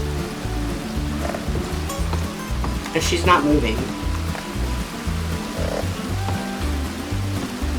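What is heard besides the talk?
rain falling in a video game town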